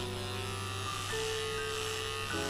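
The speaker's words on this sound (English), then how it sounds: "I'm shaving my head down, and I see the shadow." Electric clippers buzz steadily and close while a head is shaved down before scalp micropigmentation, the motor's hum shifting pitch slightly as the blade presses into the hair; no one speaks.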